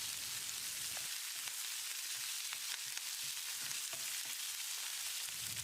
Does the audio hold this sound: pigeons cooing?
no